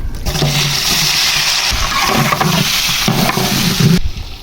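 Roughly chopped onions, about 2.5 kg, dropped into hot oil in a large pot for chana pulao, giving a loud hissing sizzle with splashy stirring bursts that stops abruptly near the end.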